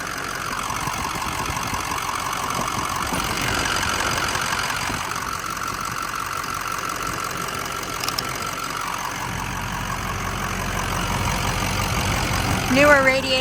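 A 2006 Ford F250 XLT Sport 4x4 pickup engine idles with a steady, close mechanical rumble throughout, while someone talks over it.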